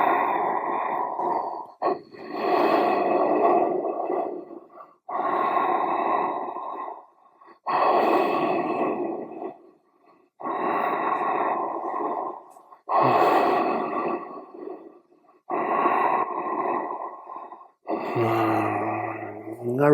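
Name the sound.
breathing in and out during spinal twist exercises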